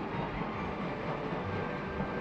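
A 1960 luggage-testing machine shakes a suitcase to imitate a long train journey, giving a steady, loud, unbroken rumbling rattle that fills the whole stretch with no talk.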